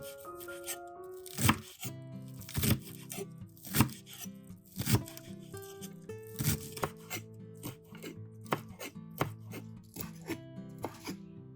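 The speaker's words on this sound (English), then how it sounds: "chop onions according to cooking needs" Green onions being chopped with a knife on a cutting board, a run of sharp, close, irregular chops over a faint background hum, with no talking.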